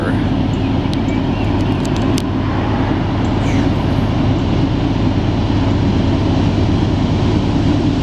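Freight train rolling past, a continuous heavy low rumble with rattling, steady and fairly loud throughout, with a brief faint clicking early on.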